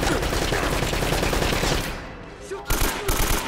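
Rapid gunfire crackles densely during a firefight in the video game Uncharted: Drake's Fortune, a loud continuous burst of shots that drops briefly before a few sharp reports return.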